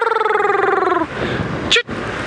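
A person whistles or vocally mimics the call of a woodland kingfisher on an evening safari drive, giving a single trilling, descending phrase of about a second, close and clear, before a brief burst of vehicle and wind noise.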